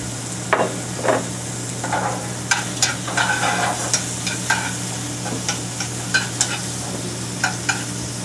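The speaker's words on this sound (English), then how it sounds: "Now I'm going to use that oil with the garlic, and I'm going to add some shrimp." Shrimp frying in garlic-infused oil in a pan, a loud steady sizzle with a low hum beneath and scattered clinks and scrapes of a utensil turning the pieces.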